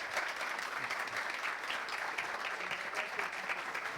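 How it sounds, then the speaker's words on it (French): Steady applause from an audience at an after-work talk on building an 8-bit breadboard computer, dense even clapping holding at a constant level for the whole stretch with no voices. "sous un tonnerre d'applaudissements, Olivier Hubert"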